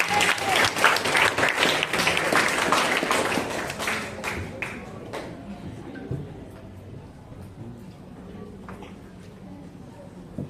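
Audience applause at a school event, loud crowd clapping that fades after a few seconds into scattered claps and quiet room noise.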